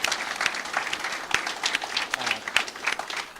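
A launch event crowd for Wounded Warrior Project and APEX Service Partners applauds close by, the clapping uneven with sharp individual claps standing out and a few voices mixed in.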